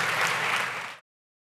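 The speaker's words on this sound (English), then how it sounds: "let's give a big round of applause for showing us the latest." A brief burst of dense crowd applause after a tech presentation on modular phones, loud and steady for about a second before cutting off abruptly into silence.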